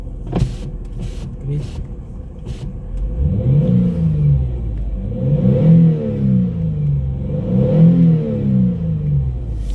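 A Jaguar X-Type with a 2.5-litre petrol engine and dual exhaust revs three times in close succession, each rise and fall loud and near, after a few sharp clicks at the start.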